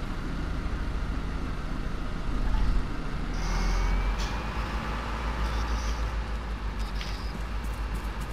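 A truck in the video game Arma 3 Altis Life rumbles with a steady low engine drone, swelling briefly louder, with hissing air-brake-like bursts partway through.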